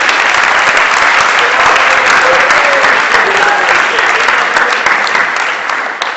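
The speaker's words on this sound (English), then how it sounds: "can we have a round of applause for our guest speakers, Ian and Rachel?" Audience at a students' meeting applauding guest speakers, a loud, dense, steady round of clapping from a large crowd that holds for about six seconds before easing slightly at the end.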